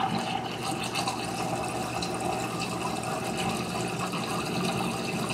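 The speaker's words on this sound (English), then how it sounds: "engages a drain cycle" An appliance, its door closed, begins a drain cycle right after its wash is cancelled: a steady, close rush of pumped and flowing water holds at an even level throughout, with no talking.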